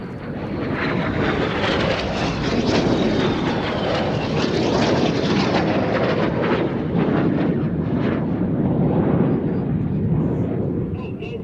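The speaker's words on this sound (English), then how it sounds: "Each aircraft now pull up." Aerobatic display team jets pulling up at Sywell Airshow, a loud continuous roar with a slow whooshing pass, heard alongside a commentator's voice.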